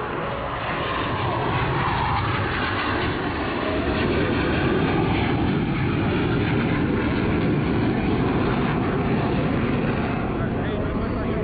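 Blue Angels F-18 jets pass low in carrier landing configuration, a steady broad roar that holds strong throughout, with a voice talking over it.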